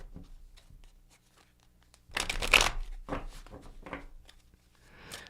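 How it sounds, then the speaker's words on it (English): Tarot cards are shuffled close up in a few quick riffling bursts, with soft rustles and taps between them and no talking. "I'm going to shuffle your cards."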